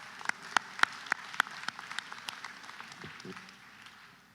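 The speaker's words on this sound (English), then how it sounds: "give yourself a round of applause." At a Delaware State University commencement ceremony, graduates give a round of applause: a handful of sharp, scattered claps ring out at first, then thin into a faint, diffuse patter under a murmuring crowd.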